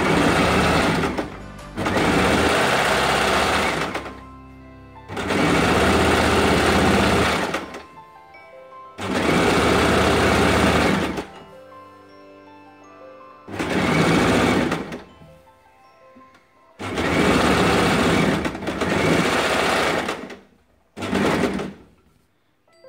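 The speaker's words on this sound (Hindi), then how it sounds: "इस तरीके से दोनों कपड़े को अच्छे से मिलाकर सिलाई" A sewing machine stitches the crotch seam of palazzo pants in about six loud, close bursts of whirring, separated by short quiet gaps with faint rustling and no talking.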